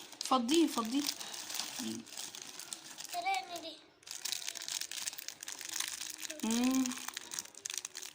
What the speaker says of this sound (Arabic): ودلوقتي هنفتح الكيس ابو 5 جنيه